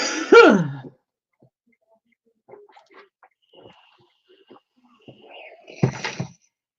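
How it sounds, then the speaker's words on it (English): A woman with a dry throat after cancer clears her throat and gives a harsh dry cough close to the microphone. A second rough burst follows several seconds later, with faint rustling in the quiet between. "I've always got a bit of a dry cough"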